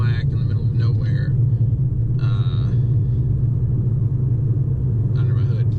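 A 33-year-old car drives along a dark road toward a gas station, a constant low engine rumble filling the cabin while brief higher noises come and go over it.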